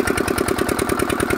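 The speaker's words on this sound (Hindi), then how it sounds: "ये देसी इंजन है 10 HP का" Desi 10 HP diesel engine pumping water through a 5-inch pipeline, running loud and close with a steady, rapid thudding beat and heavy low-end vibration throughout, no voices over it.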